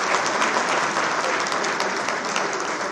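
Audience applause breaking out at a Pan-African Merit award ceremony in Brazzaville, a dense, steady wash of many hands clapping together that holds at full strength throughout.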